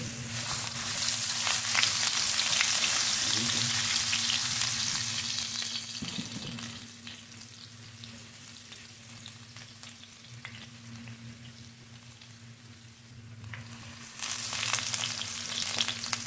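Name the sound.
ginger frying in hot olive oil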